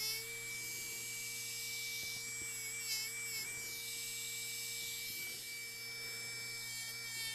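A rotary tool fitted with a fine rubber polishing wheel whines steadily at close range, with a high constant tone and soft rubbing contact as it polishes a restoration piece.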